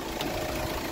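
A warmed-up Hyundai Creta engine, freshly overhauled with a rebuilt compressor, idles quietly and evenly in a brief steady hum with a soft low rumble and no voices.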